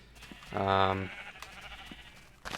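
A single loud sheep bleat from Minecraft, a half-second harmonic cry standing out near the middle of a quiet stretch of game background.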